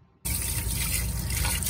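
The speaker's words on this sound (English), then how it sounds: "We're pouring water into the bilge." Water pours in a steady, splashing stream into a sailboat bilge, starting suddenly after a brief quiet moment and running continuously and close by.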